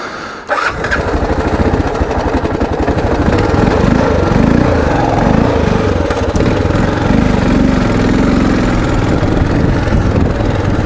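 A Kawasaki KLR motorcycle engine fires up after a brief crank and settles into a loud, steady running rumble close by, with no voices.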